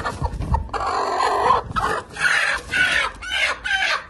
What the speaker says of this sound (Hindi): हमारी मुर्गी एक मुर्गी यहाँ पर बैठी है,